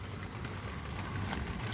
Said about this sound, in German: Draußen ist jetzt richtig Wind. Es regnet auch richtig schön. Man hört es vielleicht.